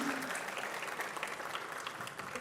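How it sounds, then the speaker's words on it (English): Audience at an alumni day event clapping for a young performer, dense continuous applause, fairly close and even, with faint cheering mixed in. "Give her a big round of applause again,"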